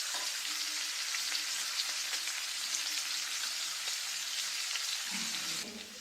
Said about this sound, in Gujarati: કચોરીને ધીમા ગેસે જ તળવાની છે